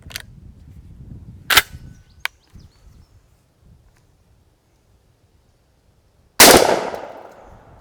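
Shotgun blasts firing Federal Flitecontrol 00 buckshot through a full choke crack out sharply at an outdoor range, with a couple of quick reports early on and one loud shot near the end that rings out into a long decaying tail.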